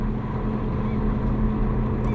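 A motorboat on the river near the Yakutsk ferry crossing from Nizhny Bestyakh drones with a steady, low engine hum that carries evenly throughout.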